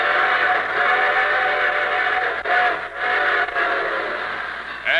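Train whistle effect on an old railroad radio show, a loud, close, sustained steam-whistle chord blowing in long blasts with two short breaks, alone without speech.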